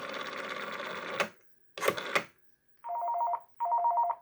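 A 1949 Western Electric 302 desk telephone rings loudly and close by: a long mechanical bell burst, then two shorter bursts, followed by two steady ringback tones heard down the line, with no talking.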